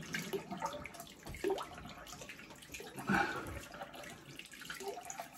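Hot water runs from a tap for a rinse while shaving, a continuous hiss and splash with a couple of louder surges as the stream is disturbed.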